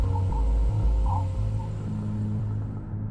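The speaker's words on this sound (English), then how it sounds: "This is the sound of the solar wind as it abruptly slows down from the pressure of interstellar" A Voyager 1 space recording of the solar wind slowing at the interstellar boundary, an eerie low rumbling drone with faint warbling tones, steady and continuous, with no voices.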